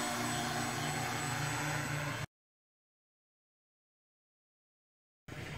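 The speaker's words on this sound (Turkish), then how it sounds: "Şimdi drone'u biraz bizden uzaklaştıralım." Small drone flying away outdoors, its buzzing rotor whine loud and steady for about two seconds, then cut to silence before returning briefly near the end.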